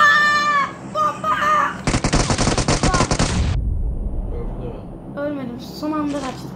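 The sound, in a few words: grenade explosion in PUBG Mobile video game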